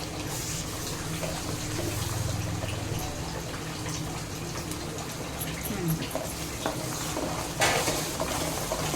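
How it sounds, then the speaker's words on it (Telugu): Spice paste goes into a large three-kilogram pot of fish curry and is stirred through, making a continuous wet sizzling and swishing close up, with a few louder scrapes near the end. "ఇప్పుడు ఈ పేస్ట్ వేస్తున్నా కదా, చూడండి"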